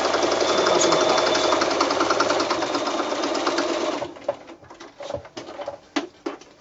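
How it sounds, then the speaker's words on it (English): A sewing machine stitches a seam on a small snap bag, running fast and steady for about four seconds, then slowing into a few sparse, uneven bursts of stitching and clicks. "I'm going to start sewing, I'm going to back stitch all the way to the top and then come all the way down to the bottom"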